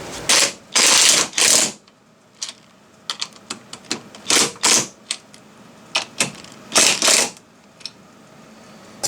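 Bolts on the front strut tops of a 1999–2005 Volvo S60 being tightened, with repeated bursts of ratcheting and clicking close by, some long runs and shorter quick clicks, with no talk.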